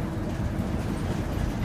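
Inside a moving bus, where a dense, steady low rumble and road drone fill the space without a break.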